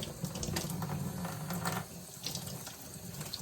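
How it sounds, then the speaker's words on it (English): Lukewarm tap water runs steadily into a sink for rinsing a semi-hydroponic houseplant, a continuous close splashing hiss with no one talking. "So I'll turn my water on so it's lukewarm"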